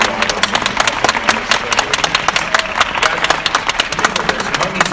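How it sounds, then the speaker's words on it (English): Convention audience applauding in a busy room, dense continuous clapping with scattered sharp claps and crowd noise throughout. "can we get a big round of applause for both Jenkins and Will Robinson?"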